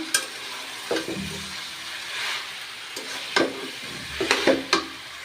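Chalta pickle with turmeric being stirred in a pan, a spoon scraping and turning in irregular strokes with soft sizzling underneath, close by and alone.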